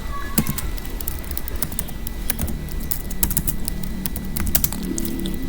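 Keystrokes on a computer keyboard tap in a quick, uneven run, sharp and close, while a low steady hum and faint background noise sit underneath.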